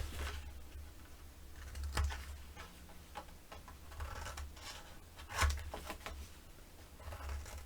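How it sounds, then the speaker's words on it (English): Scissors snip through paper in a few quiet, close cuts, spaced out irregularly with soft rustling between them. "grab some scissors and miter the corners."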